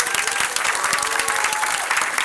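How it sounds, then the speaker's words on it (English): An audience at the DC Improv graduation show breaks into loud, sustained clapping, dense and even throughout, with a faint crowd murmur underneath. "give yourselves a round of applause"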